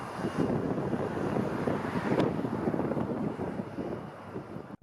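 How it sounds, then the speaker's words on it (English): An Air Canada Boeing 777-300ER jet takes off on a snowy winter runway, heard as a broad, steady roar of engine and wind noise that holds level and then tapers slightly. "Air Canada Boeing 777-300ER kicks up a massive snow cloud during a winter takeoff."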